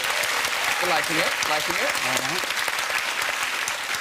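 Loud studio audience applause used as a vote on a television chat show, with someone speaking over the clapping partway through.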